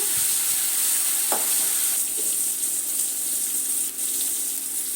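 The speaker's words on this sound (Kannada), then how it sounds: "ಈಗ ಒಂದು ಟೊಮೊಟೊ ಸೇರಿಸ್ತಾ ಇದ್ದೀನಿ ದೊಡ್ಡ ಸೈಜು ಇದು ಚೆನ್ನಾಗಿ ಮೆತ್ತಗಾಗೋ ತನಕ ಹುರ್ಕೊಳ್ಳೋಣ" A large chopped tomato fries with browned onions in a pan, giving a steady, loud, close hiss and sizzle. A few faint stirring knocks sound over the constant frying.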